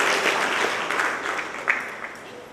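An audience claps steadily at a homoeopathic college graduation ceremony in India, with dense, fairly loud applause filling the hall and tapering slightly toward the end.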